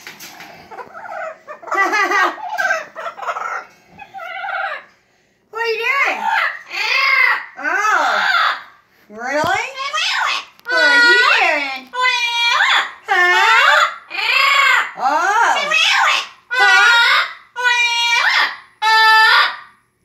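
Yellow-headed Amazon parrot vocalizing up close, a loud run of repeated wavering, whooping calls and squawks in regular bursts after a few choppier chirps at the start.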